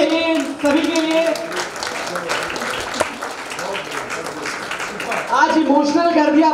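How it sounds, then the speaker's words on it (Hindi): An audience applauds at an awards event, a sustained wash of clapping running under a speaker's voice that carries on throughout, swelling again near the end. "उठा सकते हैं तालियां, बजनी चाहिए सभी के लिए।"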